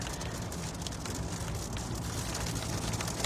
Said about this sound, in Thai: ฝนอีกหนึ่งระลอกแล้วนะคะ